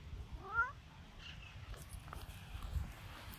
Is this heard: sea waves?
no